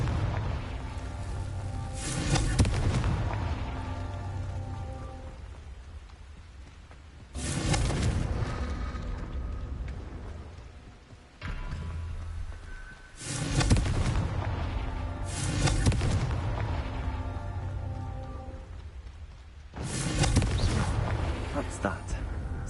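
Fiery Confringo spell blasts from Hogwarts Legacy, four loud booming explosions spaced several seconds apart, each with a sharp crack and a rumbling tail over a low, continuous game background.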